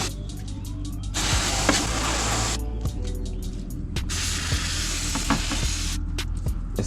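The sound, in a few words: brake cleaner crackling on hot BMW E92 M3 valve cover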